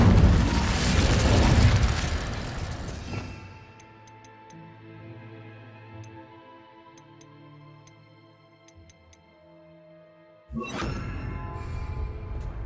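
A fire spell cast in Hogwarts Legacy bursts with a loud roaring whoosh, fades into a ringing magical tail with faint ticking sparkles, then another loud burst erupts near the end.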